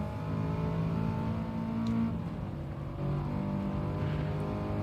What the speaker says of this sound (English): This car moves around quite a lot.